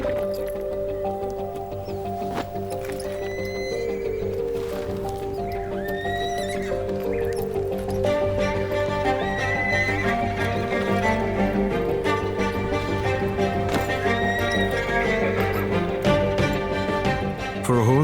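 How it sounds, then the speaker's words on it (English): A young colt being broken to bit and saddle neighs and whinnies repeatedly while its hooves clop and shuffle, with faint background noise throughout. "Little by little, they introduce a young colt to a bit and a saddle."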